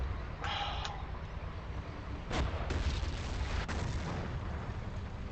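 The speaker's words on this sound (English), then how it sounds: "Grenades from behind me." Grenades explode behind the player in Battlefield 1942, several deep booms and sharp blasts over a few seconds against steady rumbling battle noise.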